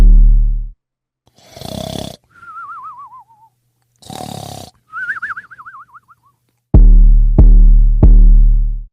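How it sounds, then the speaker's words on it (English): Sparse, deep booming 808 bass hits in a spaced-out Philly drill pattern, with a lone boom at the start and three heavy ones at the end, separated by wavy whistle-like synth tones and noise bursts. "First off, we have the 808, super spaced out, basic Philly 808 pattern."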